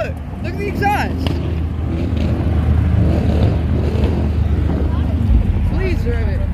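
A car engine revs at a car meet in the Pearland Town Center lot, a loud throaty exhaust rising and falling close by while several people talk and shout over it.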